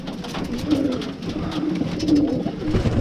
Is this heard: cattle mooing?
no